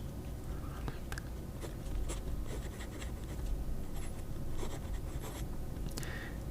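A fountain pen with a 0.9 stub nib scratches across paper in close, faint, continuous strokes with small clicks and taps, quiet and steady with no talk.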